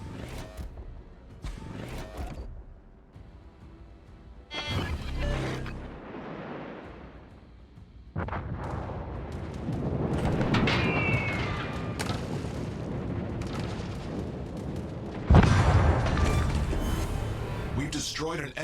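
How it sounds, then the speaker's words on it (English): Naval artillery rumbles and booms in a warship battle game as an enemy cruiser is destroyed, scattered blasts building to a louder sustained barrage with a sharp impact near the end, under steady commentary from a man. "We've destroyed an enemy cruiser."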